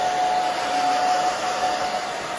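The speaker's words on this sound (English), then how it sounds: "you can see I'm moving my fingers and the blow dryer at the same time" A handheld blow dryer runs steadily while drying a short pixie haircut, a continuous loud whooshing airflow with a thin high whine, moving back and forth close by with no talk.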